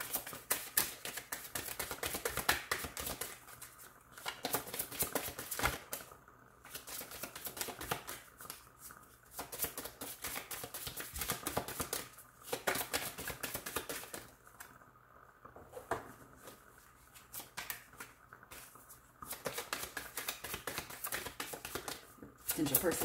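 Tarot cards are shuffled over and over in quick, papery riffles and taps, falling into rhythmic bursts with short pauses in between. A person talks softly over the shuffling the whole time.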